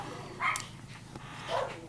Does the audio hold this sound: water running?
no